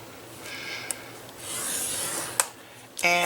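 Cardstock being scored on a scoring board for a pocket card, giving soft rubbing and rasping strokes with a couple of sharp clicks, close and quiet with no talking.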